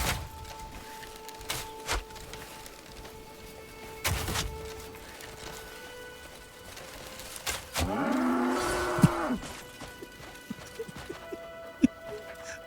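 A cow in the video game Crimson Desert gives one drawn-out moo lasting about a second, mid-distance, amid outdoor game ambience with scattered thuds and clicks.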